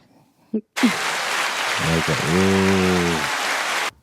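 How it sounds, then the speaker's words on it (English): Brief burst of clapping on a podcast set, a dense even patter lasting a few seconds, with a voice and a tonal hum partway through before it cuts off. "I wanna take my hat off and give them applause as well. Give them a clap for that."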